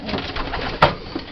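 A pigeon coos briefly at a breeder's loft amid soft rustling and low murmur, one short distinct call standing out near the middle before a fainter trailing note.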